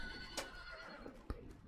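A faint horse whinny from the video game Hunt: Showdown, heard as two short, quiet bursts over a low background hum.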